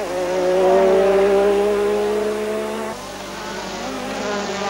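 Race cars scream past at over 300 km/h during practice, a loud, high engine whine that swells and then fades as the cars move away, with a second, steadier drone continuing afterward.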